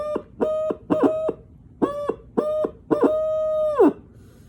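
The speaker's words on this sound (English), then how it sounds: "I'll just blow the quick first part of the notes of the owl." A hand-blown owl hooter call sounds a series of hoots: several short rising-falling notes in a steady rhythm, then one long sustained hoot, loud and close with no talk.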